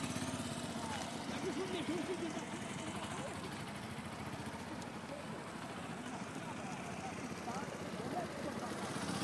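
A motorcycle engine runs at low revs during tight-turn riding training, a steady close putter under ambient noise with no one talking.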